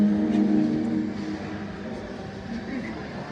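An engine exhibit in the engine hall of a science museum in Bangalore pumps air with a steady low mechanical whir and hum. It is a bit louder at first, then settles to a constant drone with no talk.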